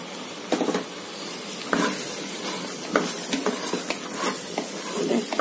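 Cut mushrooms stirred into sizzling tomatoes in a pan for mushroom biryani, a steady close sizzle broken by repeated scraping stir strokes and light clinks of a spoon against the pan.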